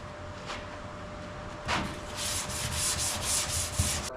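Rhythmic back-and-forth sanding strokes rasp against a Daihatsu Mira Turbo TR-XX lower door panel, close up, speeding into a steady scrubbing pattern after a couple of slower passes.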